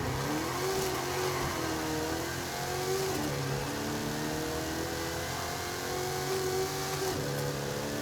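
A muscle car engine in Forza Horizon 5 revs and accelerates steadily, a loud, continuous mid-pitched drone with rising and falling pitch sweeps as the car pulls through the gears, with no talk over it.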